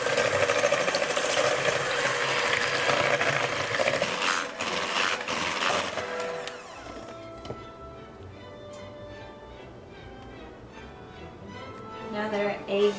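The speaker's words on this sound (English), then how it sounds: "you have an electric mixer because you're gonna have to beat these eggs a lot until they're very fluffy and pale" An electric mixer whirs steadily, beating eggs and sugar for a Christmas Bûche de Noël sponge, loud and close for several seconds before stopping, then quiet kitchen sounds follow.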